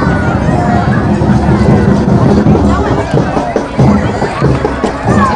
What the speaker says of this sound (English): It's a good crowd here tonight.